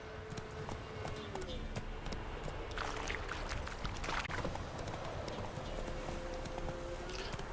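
Roach, Geralt's horse in The Witcher 3, gallops with a steady run of clip-clopping hooves across the whole stretch, held under game background sound and bits of talk.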